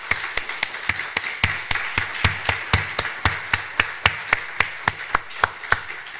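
A church congregation claps in steady unison, crisp evenly spaced beats keeping a regular rhythm throughout, loud and sharp with little talk.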